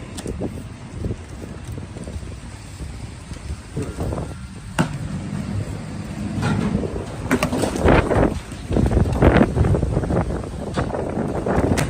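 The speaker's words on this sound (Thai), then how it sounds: "ลมแรงนะครับ" Strong wind gusts outdoors buffet the microphone, making rough, rumbling bursts that swell and ease and grow louder toward the end.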